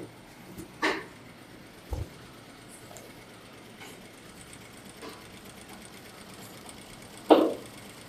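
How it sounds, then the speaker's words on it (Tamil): A sewing machine stitches fabric edges at a tailoring class, a quiet steady mechanical hum broken by a few sharp clicks and thumps. "அதனால் மெதுவாக தைச்சிட்டு வா."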